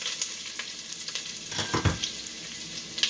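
Garlic and onion frying in a hot pan while cooking pork with tomato, a steady close sizzle with a few louder spatters and stirring scrapes near the middle.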